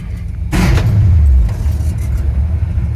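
A truck engine cranks and fires at about half a second with a loud burst, then settles into a steady low rumbling idle. It has just had a new distributor installed.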